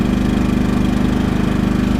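A Champion 3100 watt inverter generator runs at a steady loud drone with an even, rapid engine pulse, heard close up with no talking.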